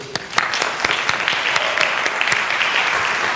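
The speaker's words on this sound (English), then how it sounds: "could we applaud them too?" An audience at an international festival applauds honoured guests with steady, fairly loud clapping that keeps going throughout, with sharp individual claps standing out from the wash.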